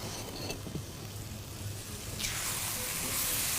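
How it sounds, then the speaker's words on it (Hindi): Minced meat being fried for Kutay Masale Ka Qeema in a pan: a low, steady sizzle that swells into a brighter, louder hiss of frying near the end, with no talk. "बस कीमा है भुनाई पर।"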